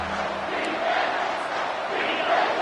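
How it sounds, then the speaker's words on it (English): A college football stadium crowd roars in a broad, sustained wash of noise, swelling slightly in waves and heard from within the stands, with no clear talk above it. "This crowd knows when to bring it."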